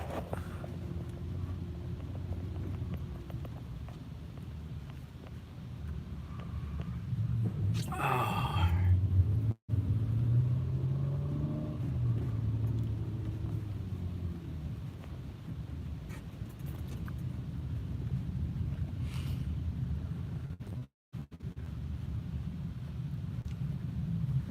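A car drives along a snowy road with a low, steady engine and tyre rumble inside the cabin and a brief rustle partway through, without talk.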